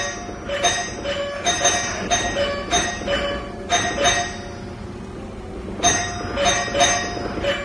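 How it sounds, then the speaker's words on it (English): A front doorbell, rung by a woodpecker, chimes over and over in quick repeating bursts, ringing steadily with a few brief pauses between rounds. "a woodpecker that took a liking to their front doorbell and would not stop ringing it"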